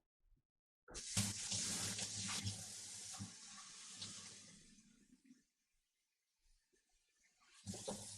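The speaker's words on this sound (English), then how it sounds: "I'm adding more water to these bottles." Water pours from a tap into bottles at a yarn-dyeing setup, a steady close rush that tapers off into faint drips and clinks before the flow starts again.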